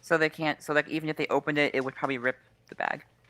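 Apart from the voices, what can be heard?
None of the usual background noises is heard.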